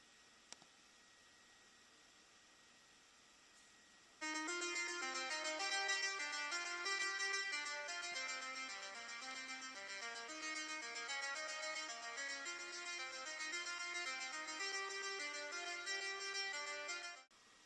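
Mach 3 sequencer sending MIDI data to a synthesizer, a steady quiet hiss that gives way to a dense, rapid stream of bright tonal notes which continues steadily to the end.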